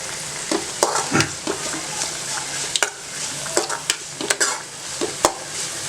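Tempering spices for avial crackle and sizzle in hot oil, with sharp pops scattered over a steady frying hiss and occasional stirring sounds.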